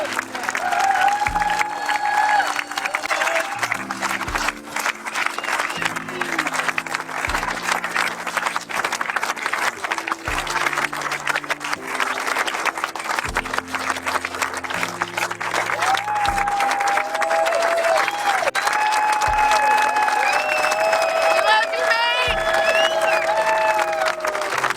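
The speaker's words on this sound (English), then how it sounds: "So give him a quick round of applause." Audience applause for a man honored at a court dedication, sustained, dense clapping from a crowd that carries on throughout, with scattered cheers and a voice faintly in the background.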